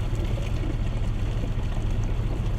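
Water running from a neighbor's outdoor tap, a steady, loud gushing pour that continues without pause, heard up close with no talk.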